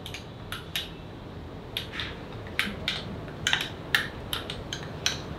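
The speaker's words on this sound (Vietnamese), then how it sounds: "Rồi mình sẽ khuấy cái hỗn hợp này lên là chúng ta có thể dùng đúng cái công thức nóng luôn" A spoon stirring a coconut coffee mixture in a cup, a series of light, irregular clinks against the cup, fairly faint and close over a quiet background.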